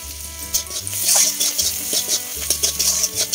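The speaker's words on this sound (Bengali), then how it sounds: "পেঁয়াজ ভালো মতো ভাজা হতেছে, এখন দিচ্ছি হলুদ গুঁড়ো আর লবণ" Onions frying in a pan with turmeric powder and salt as a spoon stirs them, giving a steady close sizzle with repeated scraping strokes against the pan.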